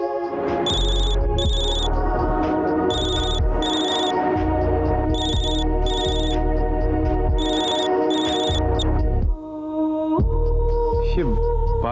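A phone ringtone plays in a domestic scene from a Hindi TV drama. It is a loud, repeating electronic melody in paired bursts that continues steadily, then cuts off abruptly near the end under background music.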